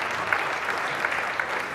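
An audience applauds steadily at a business conference, an even wash of clapping from a room full of people that holds for the whole moment.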